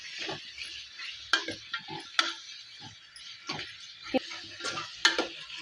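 Fenugreek greens and beans sautéing in oil for a Marathwada-style bhajji: a steady sizzle under repeated sharp clicks and scrapes of a spoon stirring in the pan, close and moderately loud, with no talk.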